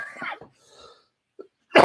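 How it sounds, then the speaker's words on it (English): Two short, dry coughs from a woman who vapes, the first gruff and the second a louder sharp burst at the end, with a quiet murmur and a small throat sound between them. "I'm not ill, but I vape and I vape cough."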